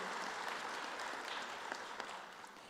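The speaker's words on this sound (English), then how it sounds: "Please give these educators a round of applause." An audience at a graduation ceremony applauds educators, giving a steady wash of clapping that holds fairly evenly and tapers slightly near the end.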